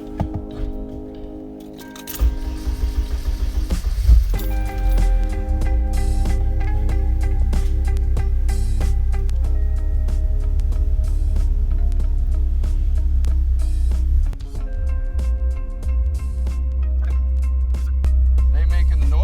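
Porsche 944/924S transaxle being test run after reassembly, a loud steady low mechanical drone with a continuous whine that rises after a brief startup and runs on, with a small dip partway through.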